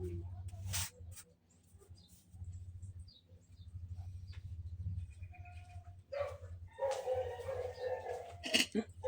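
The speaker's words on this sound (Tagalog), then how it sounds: "Yung mga aso ng kapitbahay ang iingay." Several dogs bark in the distance over a low rumbling background, with quieter barks early on and louder, busier barking toward the end.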